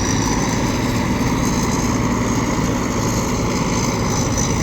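A combine harvester's engine, newly fitted with a turbo in its first season, runs steadily and loudly up close, a dense continuous drone with no pauses.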